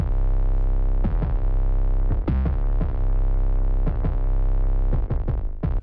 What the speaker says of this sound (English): just an 808 with distortion.